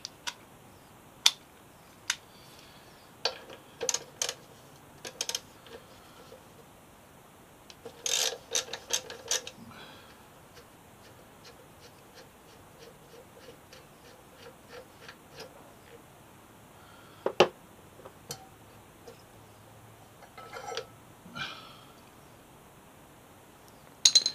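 Ratchet clicking in scattered short bursts while brake caliper bolts are removed on a Triumph Street Triple R motorcycle, close and crisp metallic ticks with gaps and occasional tool clinks between.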